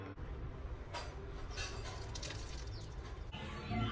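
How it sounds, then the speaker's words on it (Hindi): Water poured onto a tulsi plant as a devotional offering makes a steady, soft splashing and trickling for a few seconds, fairly quiet and with no voices. "अब मैं जा रही हूँ तुलसी जी को जल चढ़ाने।"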